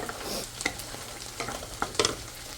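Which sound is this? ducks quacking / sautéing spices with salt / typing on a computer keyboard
sautéing spices with salt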